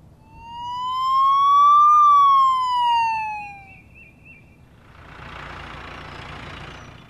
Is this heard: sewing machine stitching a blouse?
no